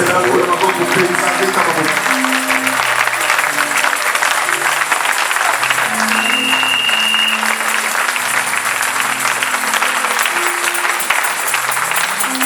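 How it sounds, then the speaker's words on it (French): A church congregation at a French-language service claps steadily and densely, loud and sustained, with voices and singing underneath the applause throughout. "Est-ce qu'on peut acclamer le Seigneur? Donc acclamer très bien."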